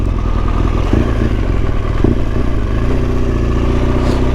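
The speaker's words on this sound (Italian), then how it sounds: "è una moto ma non è Bruno" A motorcycle engine drones steadily at close range, its pitch shifting slightly as it goes by, with no voices.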